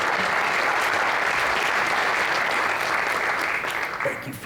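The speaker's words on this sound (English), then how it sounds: "Give them a round of applause" Applause at a city State of the City event, a loud, dense, continuous round of clapping from a crowd that holds steady and then tapers off briefly at the end.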